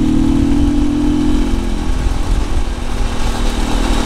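A motorcycle engine, a Halcyon 450, works hard as it climbs a Rocky Mountain road, a close, loud, steady drone with a low throb and rushing wind noise, no voices.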